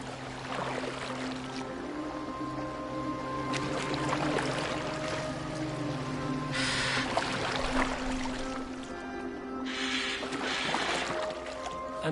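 A boat moving across water in Assassin's Creed Valhalla, with a steady wash of water and hull movement running throughout alongside a low droning music bed, at a constant moderate level.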